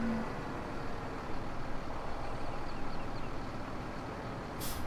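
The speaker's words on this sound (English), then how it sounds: "I like the way these trucks sound. They sound like a decent truck." A truck engine in the Farming Simulator 2017 video game, a steady low diesel rumble idling and droning at moderate volume, with a brief hiss near the end.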